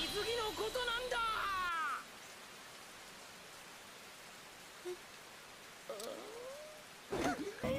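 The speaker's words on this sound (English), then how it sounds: "And now they're caught in the rain somehow." Rain falling in an animated scene, a soft steady patter heard alone through the middle, with brief voices and music at the start and end.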